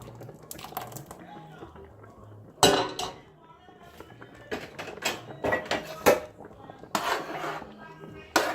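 Thick egusi soup stirred in a pot over low heat, a utensil scraping and clinking against the pot in irregular bursts, close and moderately loud.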